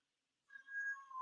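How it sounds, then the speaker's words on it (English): A cat meows once, a drawn-out, tonal cry that rises in and holds steady for most of a second, close and fairly clear against an otherwise quiet room with no talking. "Cats."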